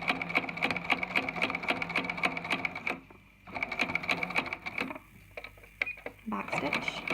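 Sewing machine stitching fabric while sewing a zipper and pocket, a fast clattering needle rhythm up close that stops and restarts in short bursts.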